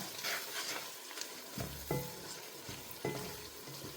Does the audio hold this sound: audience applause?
no